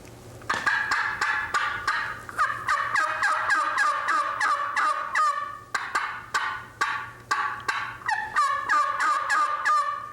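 A hand-blown goose call imitating the cackle of an old hen, loud rapid honking notes in quick bursts with brief pauses, close and alone.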